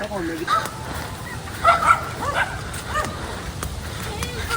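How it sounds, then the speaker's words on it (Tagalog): Dogs bark and yip somewhere off at a distance, scattered short calls over a noisy outdoor background. "Tahulan na naman ng mga aso."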